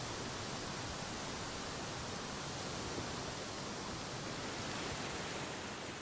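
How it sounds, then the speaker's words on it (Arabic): Steady, unbroken roar of waterfalls in the Ticino mountains of Switzerland, a dense hiss of rushing water that stays fairly soft and even throughout, with no voices or other sounds. "هناك صوت مميز لتيتشينو، إنه هدير الشلالات"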